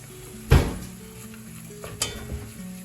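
Noodles stirred in a sizzling pan for a dinner dish, with a loud spoon scrape against the pan, a quieter second clatter, and a low steady sizzle underneath.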